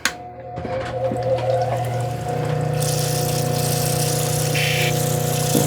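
Water pours steadily onto a sharpening wheel, a continuous rushing flow over a constant mechanical hum from the running machine, close and fairly loud with no pauses.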